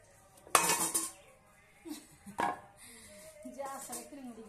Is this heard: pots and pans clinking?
yes